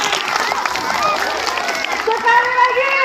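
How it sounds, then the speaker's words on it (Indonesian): Schoolchildren applauding at an elementary school farewell event, steady crowd clapping and chatter, with voices and tonal sounds rising toward the end. "Beri tepuk tangan semuanya anak-anak ibu."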